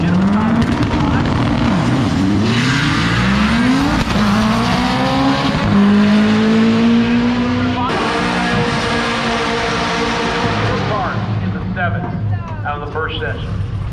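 A drag racing car roars down the strip on a mid seven-second pass, engine pitch sweeping upward through several gear shifts before fading, with commentary and crowd chatter running underneath.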